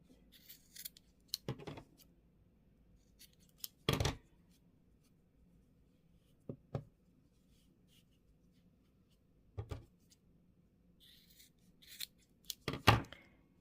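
Scissors trim the yarn ends of a crochet tassel on a belt, giving several separate quiet snips and handling rustles spread across a calm, otherwise silent stretch.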